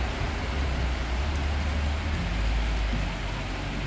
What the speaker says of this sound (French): il est en train de pleuvoir, je vais vous montrer.